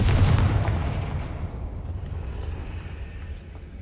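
A Confringo fire-blast spell explodes in a video game, a heavy, deep boom that hits loud at once and then rumbles and decays over several seconds.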